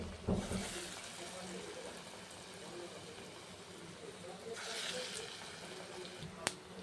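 Thin rice-batter fritters (bora) sizzle steadily in hot oil, a soft continuous crackle and hiss with a louder spitting swell later on.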